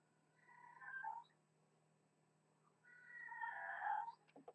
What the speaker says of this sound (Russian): Это кошачья оперета у меня на заднем плане